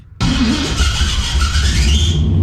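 A car engine fitted with Holley Terminator X fuel injection cranks and catches, then roars loudly and steadily as it's revved, close up with no talking.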